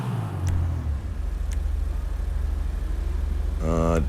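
A Pfister Growler car engine in the video game GTA Online idles with a steady low rumble, then revs up sharply near the end; a voice briefly speaks at the start.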